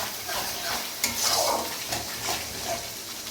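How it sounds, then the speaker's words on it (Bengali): Garam masala and chili powder frying in oil in a pan, a close continuous hiss and crackle with occasional soft scraping, no one speaking. "আমরা মশলাটাকে ভালো করে তেল ছাড়া অবধি কষিয়ে নেব"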